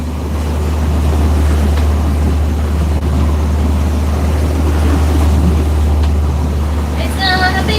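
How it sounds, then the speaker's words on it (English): A cruising boat motors at sea under engine power, a loud, steady low drone with rushing water and wind close by, unbroken for several seconds. "Well, Gigi, we're motoring away."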